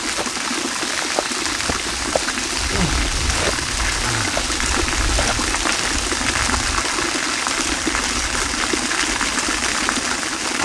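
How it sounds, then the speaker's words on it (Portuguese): Water rushes and gushes continuously close by, a steady broadband wash like a stream or hose running without pause for the whole stretch. "Toca um zoado de água"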